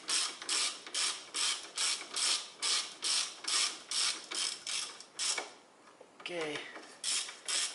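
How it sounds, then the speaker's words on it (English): Driveshaft joint bolts being tightened on a Toyota Corolla with a ratchet, a steady run of close clicking pawl strokes in regular rhythm, pausing briefly before resuming, with a short spoken word from the mechanic. "Okay, and then I fasten these bolt joint bolts in here."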